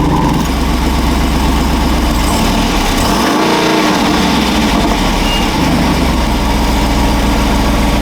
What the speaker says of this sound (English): Back here we do have quad tailpipes, and for a factory car, it actually does sound very good.